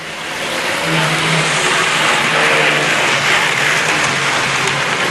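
Hornby Triang Rovex model train set running on its track, a steady loud whirring and rumbling that holds continuously throughout with no pauses.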